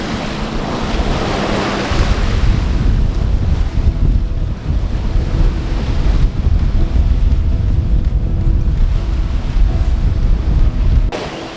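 Strong wind of 10 to 11 knots buffeting the microphone over the rush and slap of waves against a moving sailboat hull under sail, engine off, continuous and loud, no talking.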